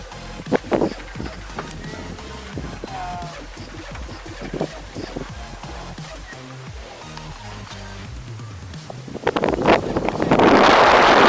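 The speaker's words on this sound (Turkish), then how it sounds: "Hava öyle bir esiyor ki şapka her an uçabilir." Strong wind blows at a viewpoint overlooking the scenery in Thailand, buffeting the microphone in irregular gusts with scattered rustles and knocks, then swelling into a loud sustained roar at the end.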